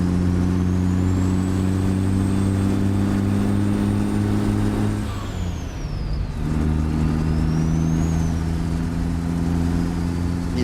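A truck's engine with a new turbo revving hard up a hill in a truck-driving simulator, a loud, steady diesel drone with a whining turbo whistle that dips at a gear change and then climbs again.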